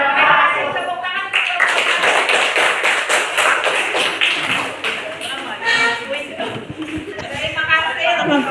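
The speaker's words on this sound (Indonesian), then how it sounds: "Tepuk tangan." A classroom audience at an Indonesian university teaching-practice session claps after a group presentation: dense, continuous hand clapping, loud and close, lasting several seconds with voices mixed in.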